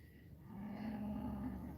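Cattle on a rural Australian homestead give one long, low moo, near and steady, with no talk over it.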